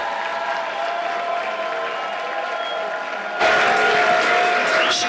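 Audience applause at a group cosplay contest at Japan Impact 2020. It starts as a distant, thin patter over a tonal hum and then swells abruptly into louder, closer clapping.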